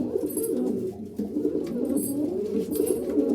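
Punjabi Malwai pigeons coo continuously inside a coop, a steady low murmuring chorus from several birds close by, with no talk.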